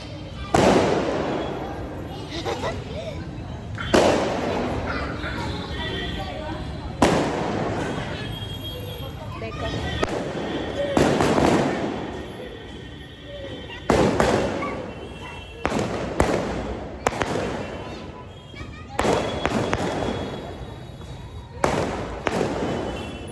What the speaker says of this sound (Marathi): बाहेर फटाके वाजतायत.